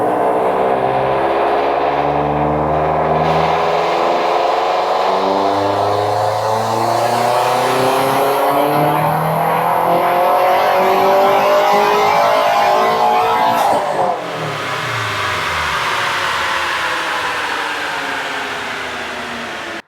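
A tuned turbocharged four-cylinder car engine, running 22 psi of boost and 370 horsepower, revs hard and continuously, pitch climbing through the gears, then drops and climbs again, loud and close.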